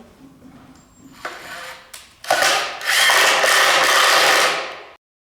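A power drill drives 1.5-inch drywall screws into wood while a vintage headboard is built into a bench, with a few short whirring bursts followed by one sustained loud run that ends abruptly.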